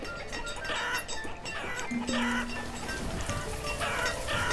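Chickens cluck and fowl sounds chatter continuously within the village-building game Banished, sitting in a busy bed of steady game ambience with no talking.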